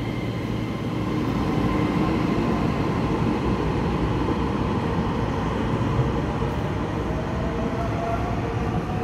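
An EMU3000 electric express train, a twelve-car Tze-Chiang set on the Hualien–Taitung line, departs with a steady loud rumble of wheels and traction hum that holds throughout, without voices.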